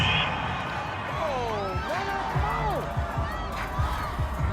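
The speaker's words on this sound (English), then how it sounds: "This home crowd, they're happy with that call." Home football crowd at a Packers–Buccaneers game cheering a penalty flag call, a dense steady roar with shouts and whistles, heard under a commentator's voice.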